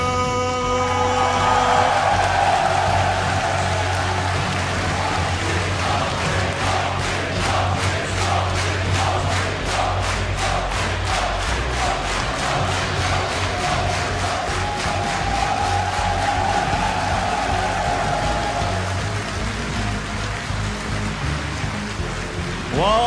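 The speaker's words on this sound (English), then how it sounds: "Well, this crowd is definitely ready" An arena crowd cheering and chanting in rhythmic waves at a StarCraft 2 WCS Premier League semifinal, loud and sustained with pulsing clapping, under music and an announcer's voice.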